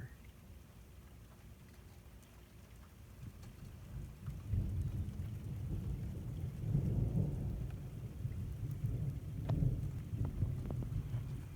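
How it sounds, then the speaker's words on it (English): Low thunder rolls and rumbles in long swells during steady rain, the deep grumble building midway and lingering over the patter of drops, fairly distant. "Thunder."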